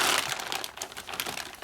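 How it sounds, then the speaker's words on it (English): A plastic bag crinkles and rustles up close, with a dense run of crackly handling noise, the bag wrapped around an oily Harley-Davidson Shovelhead stroker engine crank. "I had the plastic bag so it would protect it."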